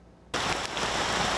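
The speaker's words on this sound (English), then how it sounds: "The rain is making the roads difficult to walk on" Steady heavy rain pours down in Taichung, Taiwan, a dense wash of hissing downpour that starts abruptly and stays loud and close, with no voices.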